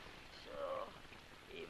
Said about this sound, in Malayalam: ഈ മഴ കണ്ടോ?